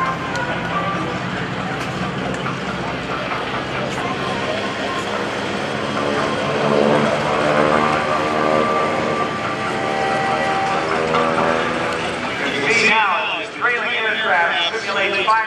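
GEICO Skytypers propeller planes drone overhead at a naval air station airshow, a sustained layered engine hum swelling and fading as they maneuver, with an announcer talking throughout.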